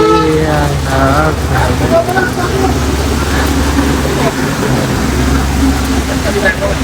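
Heavy rain falls steadily on a vehicle during a road trip through North Bengal, a constant broadband wash under a running engine, with a voice speaking over it throughout.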